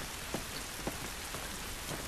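Steady rain falls outdoors in the video game The Last of Us Remastered, a constant hissing patter with occasional louder drops, heard alone at low volume.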